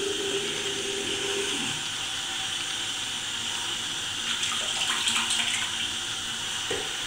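A tap runs a thin stream of lukewarm water into a sink for washing makeup brushes, giving a steady close splashing hiss with a few small clinks and shifts in the flow.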